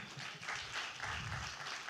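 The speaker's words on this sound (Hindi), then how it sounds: "जोरदार तालियां सबके लिए" Audience at an awards ceremony applauding, a faint, steady patter of many hands clapping from a distance across the whole stretch, with no talking over it.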